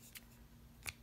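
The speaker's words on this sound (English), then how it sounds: "Cut that yarn" Scissors cut through yarn during crochet finishing of a moss stitch cotton dishcloth, giving two quick faint snips close by in a quiet room.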